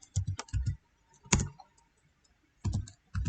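Short bursts of keyboard typing, a few quick keystrokes, a pause, then more clicking, close and fairly soft.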